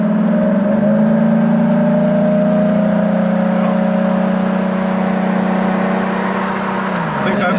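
Jaguar S-Type V6 accelerating along a road with low power, heard from inside the car as a loud, steady engine drone that holds its pitch before easing off near the end, with a faint voice underneath.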